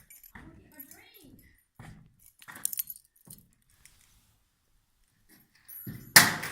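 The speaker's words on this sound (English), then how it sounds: "Throw me the keys, please." A bunch of house keys jangles in a brief metallic rattle as it is tossed and caught near the end, following scattered casual talk and soft household noises with a dog present.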